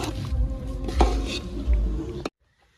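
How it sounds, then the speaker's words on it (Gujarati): Sev is stirred into a tomato curry in a pan, close scraping and clattering strokes with a few louder knocks, stopping abruptly into silence. "તો હવે આપણે જે સેવ લાવ્યા હતા એ આપણે હવે નાખી દઈશું। સારી રીતે આપણે મિલાઈ દઈશું"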